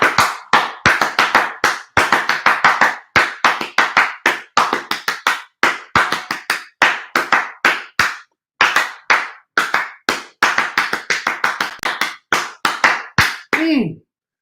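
Hands clap sharply and rapidly in quick bursts of several claps each, close and loud, with short pauses between bursts and one brief vocal sound near the end.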